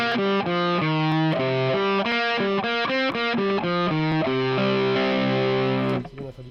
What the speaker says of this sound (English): this is the Gen Tilde version of the distortion.